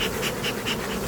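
Honeybees buzz in a hive, a dense, close, continuous hum that pulses in a steady rhythm.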